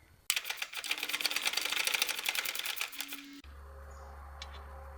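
A big half-inch ratchet with extension bars and a 13mm socket undoing bolts on an air conditioner compressor, a rapid run of close, crisp ratcheting clicks lasting about three seconds, then a quiet hum.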